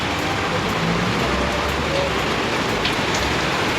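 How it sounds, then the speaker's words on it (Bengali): Steady rain falls outdoors, a continuous broadband hiss with scattered drop ticks and faint road traffic underneath, unbroken for the whole stretch. "বৃষ্টি।"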